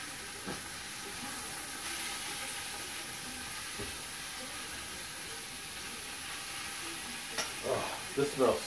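Garlic sizzles in melted butter in a pan, a steady faint frying hiss that runs the whole time, with a few brief louder crackles and stirring clicks near the end.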